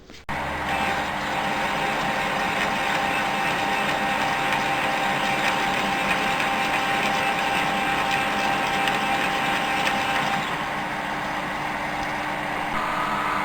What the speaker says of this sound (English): It's just a parting tool, we're just cutting it off.